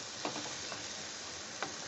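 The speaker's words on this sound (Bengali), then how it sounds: "এইবার আমি নাড়িয়ে নিচ্ছি" A spoon scrapes and stirs roasted semolina, coconut and sugar in a pan. A faint, steady sizzle runs underneath a few soft scraping knocks.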